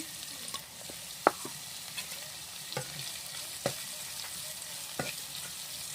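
Chicken mince with chopped ginger and garlic fries in a pan under a continuous sizzle, while a spoon stirs it with regular scraping strokes and a few sharp knocks against the pan.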